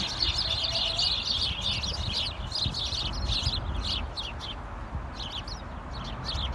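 Sparrows chirp in winter outdoors, a flock giving rapid, overlapping short tweets that come in bursts throughout, moderately close over a low background rumble, with no talk.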